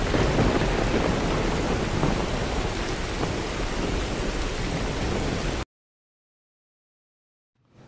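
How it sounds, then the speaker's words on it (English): Heavy rain pours steadily with rumbling thunder in a Porky Pig cartoon, then cuts off abruptly into silence. "Now the thunderstorm."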